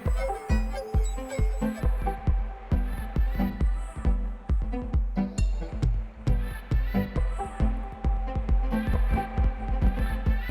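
A granular pad texture built from source material plays back through the Onlooker sampler plugin, with beat-synced pulsing low thumps under a dense, hazy tonal wash that stays loud and continuous throughout.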